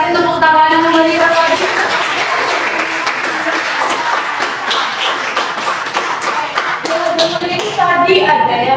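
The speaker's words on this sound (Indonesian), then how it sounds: "Oke teman-teman, boleh kasih tepuk tangan" An audience applauds the speakers and panelists at a student talk on using organizations to shape future careers, with dense sustained clapping that runs the whole stretch and voices talking at the start and end.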